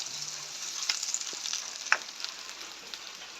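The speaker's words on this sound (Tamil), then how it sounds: "கொஞ்சம் எண்ணெய் விட்டால் லைட்டாக வதங்கி கொண்டு வருது" Onions sauté gently in a little oil for a Jaffna-style fried fish curry, a faint steady high sizzle with a few soft scraping stirs and small pops, no voice over it.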